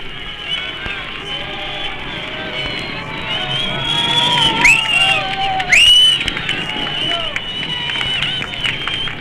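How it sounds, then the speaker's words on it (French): An archival 1960s newsreel recording of Parisians greeting Khrushchev, a loud outdoor crowd of mixed cheering, shouting and whistles, with sharp rising whistle tones cutting through the sustained roar. "Khrouchtchev est accueilli par un mélange d'applaudissements et de sifflets des Parisiens"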